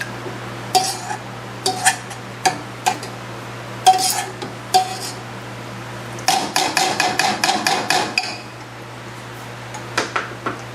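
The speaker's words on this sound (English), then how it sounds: "just mash this down with a potato masher" Shishito peppers mashed with a potato masher in a pot: a string of sharp metallic thumps and clanks, close and loud, spaced irregularly with a quick burst of rapid strikes in the middle, over a steady low hum.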